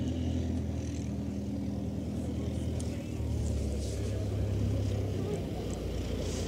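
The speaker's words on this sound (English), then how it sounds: "Bob Breeden taxiing out in his Carbon Cub" Carbon Cub light aircraft taxiing out at a STOL fly-in, a steady low engine and propeller drone at moderate distance, with commentators talking over it.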